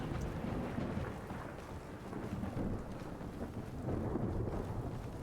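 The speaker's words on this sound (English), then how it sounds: "Like some of the thunderstorms end up really loud." A thunderstorm in the video game Skyrim gives off a continuous low, rumbling roar of thunder and rain with swelling surges, and no one speaks.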